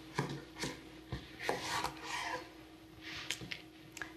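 A knife cuts through a raw cucumber on a board in a kitchen, with several close, separate scraping and rasping strokes and soft taps between them, without talk.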